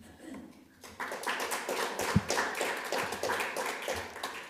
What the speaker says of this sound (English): I hope you can hear the claps, Laura.